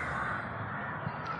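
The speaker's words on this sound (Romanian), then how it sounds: "păsările care se aud în acest parc" Crows caw in a park, a steady outdoor bird chorus with a constant background wash and no voices.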